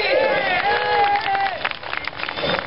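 An audience at a motorbike show in Utsunomiya applauds a rider named Honda. Scattered clapping grows toward the end, mixed with tonal voices and crowd murmur.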